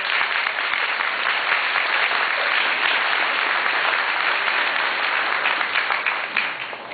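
Steady, dense applause from a hearing-room audience for State Representative Vicki Nardello at a Connecticut Siting Council wind-farm hearing, sustained and fairly loud throughout before easing slightly at the end.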